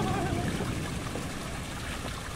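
A small waterfall fed by a nearby spring near a lighthouse in Prado, Bahia, trickling and splashing in a steady close wash of running water with no voices over it.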